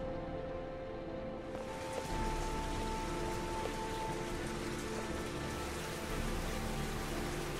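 Steady rain falls in the game Heavy Rain, a dense, even patter on surfaces that swells slightly louder after a couple of seconds and continues alone without speech.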